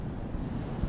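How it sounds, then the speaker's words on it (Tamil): Ocean waves on Alappuzha beach in Kerala, a steady broadband roar of surf with wind buffeting the microphone, continuous and fairly loud throughout. "திரும்ப 8 மணிக்கு அலை அடிக்கிற சவுண்டு கேட்குது"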